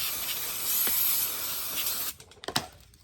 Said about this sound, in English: So all I like to do is just put some brake cleaner.